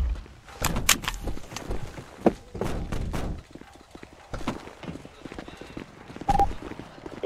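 Horses belonging to horse breeders clop and thud nearby in irregular bursts, with a brief whinny and some background voices.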